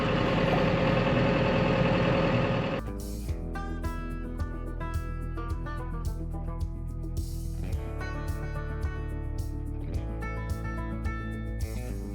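A tractor-driven bale wrapper runs in a hay field, picking up, spinning and wrapping bales in plastic, a loud steady engine drone with mechanical whirring and rhythmic clatter, close throughout, with a louder rough rush at the start.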